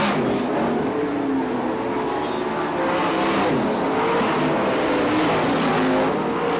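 Sprint cars in a SOD/305 Sprint Challenge race at Fremont Speedway roar continuously as a pack, loud and steady engine drone with shifting pitch as cars work through the turns, with a faint commentator voice beneath.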